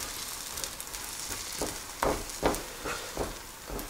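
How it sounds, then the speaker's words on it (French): A spinach omelette fries in a pan, a soft steady sizzle with several crackling pops that swell at intervals, close and fairly quiet with no talking. "On va laisser croûter un petit peu, hop, on voit... On fait cuire quoi, en fait."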